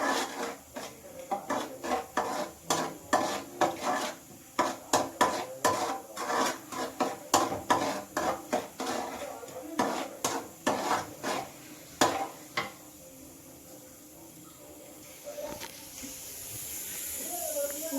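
Spice paste frying in a pan while being stirred, with repeated scraping and clanking strokes of a spoon against the metal in a steady rhythm, then a quieter sizzling hiss as the stirring stops.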